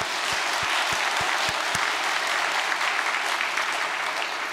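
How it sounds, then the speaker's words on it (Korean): Sustained applause from a church congregation, a dense and steady wash of clapping that holds at an even level throughout, with no voices on top. "우리 힘찬 박수 한번 보내드립시다."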